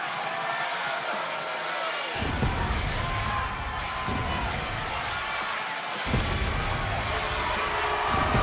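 A large arena crowd in the WWE 2K23 video game sings in unison during a Men's War Games match, a steady, dense roar that swells in low, rhythmic surges throughout, with no voices over it.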